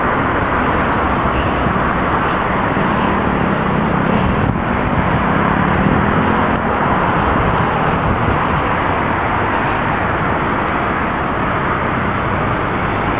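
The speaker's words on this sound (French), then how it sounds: "le bruit n'est pas très intéressant car nous avons le bruit des voitures, forcément" Constant road traffic from passing cars in a French town near a bridge, a steady, loud, unbroken roar of engines and tires with no pauses and no talking.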